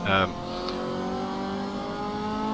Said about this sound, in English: Starting off by the MCR 2000